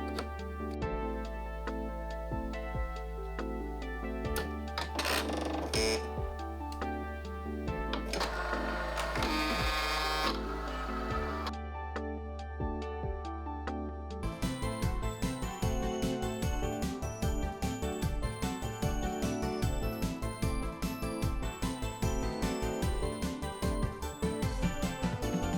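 A home sewing machine converted to an embroidery unit stitches a sunflower design for a cosplay costume, a steady mechanical whirring drone with repetitive motor tones and shifting pitch, continuous and close without speech.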